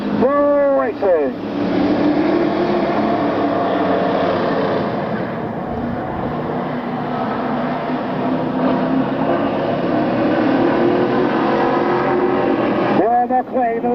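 Race cars roar through turn four on a qualifying lap at a 1996 oval event, a dense, sustained engine drone that swells and holds steady, with a commentator talking over it at the start and end.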